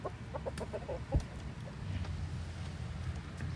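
Soft, quiet clucking from chickens nearby, a few short low calls in the first half over faint background noise.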